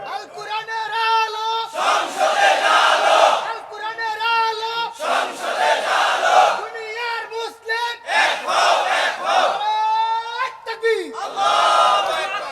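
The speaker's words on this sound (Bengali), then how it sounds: "স্লোগান দেন আল কোরআনের আলো সংসদে জ্বালো" A crowd at an Islamic political rally in Bangladesh chants a slogan in loud call-and-response rounds, a leader's amplified shout alternating with the massed reply in a steady rhythm.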